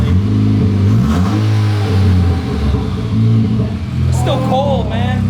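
A cold Dodge SRT4 turbo engine with a custom exhaust revs hard up close, its loud rising and falling drone repeated over a low rumble while people talk excitedly over it.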